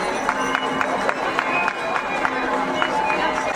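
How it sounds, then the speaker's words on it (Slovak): Spectators clap steadily for half-marathon runners at the finish, a continuous patter of crowd applause with an announcer's voice over it. "Potlesk."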